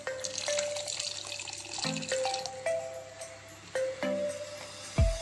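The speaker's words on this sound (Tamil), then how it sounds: "இப்போ வந்து 1/4 கப் அளவு தண்ணி சேர்த்துக்கலாம்." Water is poured into a pot of boiling tamarind fenugreek curry, giving bubbly gurgles, splashes and drips that come in short bursts, with a sharper clatter at the end.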